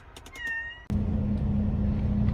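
A cat inside a truck cab gives a short meow, then a loud steady engine drone takes over and runs on without voices.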